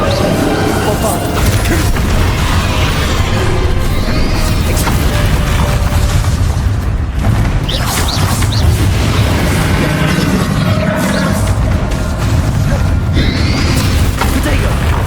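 Bombarda spell explosions in the Hogwarts Legacy game, with repeated booms and crashing bursts over dense, steady battle noise, while voices speak throughout.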